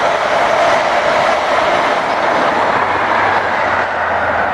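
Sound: passing train on Brunel's railway bridge

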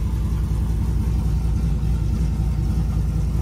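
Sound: truck engine running as it is put in gear

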